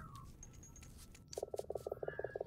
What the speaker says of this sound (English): Oh, hello, Mr. Frog.